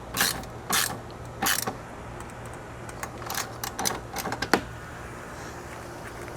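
Chassis brace bolts being tightened on a Toyota GR Corolla with a hand ratchet, giving a handful of short, sharp clicking bursts at irregular intervals, close by, over a quiet background.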